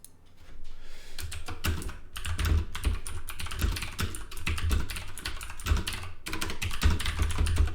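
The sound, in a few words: mechanical keyboard typing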